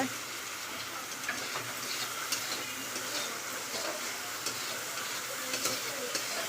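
Onion and green chili frying in a pan with turmeric, a soft continuous sizzle with faint stirring clicks and scrapes, fairly quiet and with no talking.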